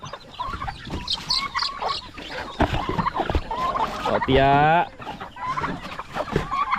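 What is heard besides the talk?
chickens clucking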